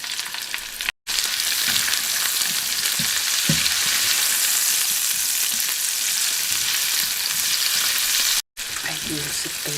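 Garlic, onion and tomato sauteing in a pan, a loud, steady close sizzle and crackle with occasional stirring knocks, broken by two brief silent gaps.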